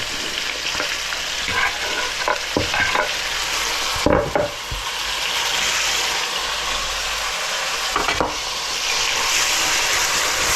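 Onions, peppers, tomatoes and celery sizzle steadily in a pan for chicken paprikash, a loud continuous hiss broken by occasional scraping stirs.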